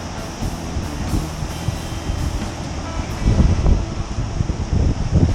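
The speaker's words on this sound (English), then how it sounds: "getting kind of windy out here too." Steady wind roar buffeting outdoors on a fishing jetty, with low rumbling gusts that grow stronger toward the end; no voices.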